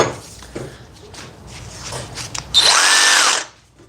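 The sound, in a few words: one-hand reciprocating saw cutting 3/4 inch pipe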